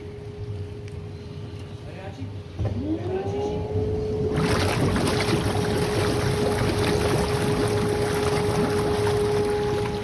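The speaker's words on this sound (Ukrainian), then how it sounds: "Тут ще вмикається джакузі" A hotel jacuzzi at the Arden Palace in Satanіv switches on, a rising tone followed by a broad, loud, continuous rush of bubbling water that swells partway through and holds steady to the end.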